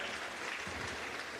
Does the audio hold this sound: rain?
no